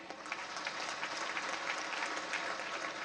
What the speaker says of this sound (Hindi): ये बेटियों के लिए, बहनों के लिए जोरदार ताली हो जाए